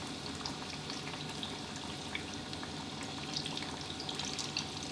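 Eggplant coated in egg batter fries in oil with a soft, continuous bubbling sizzle and tiny pops throughout, faint and steady, with nobody speaking.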